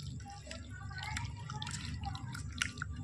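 Water drips from fish pieces for pakoras in a kitchen, a quiet patter of small close drops over a low background hum.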